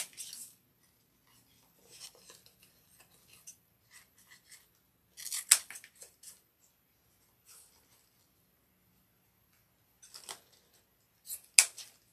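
Scissors snip through wired ribbon while a Christmas bow is made, several short crisp cuts in small bursts separated by quiet pauses, close and fairly soft.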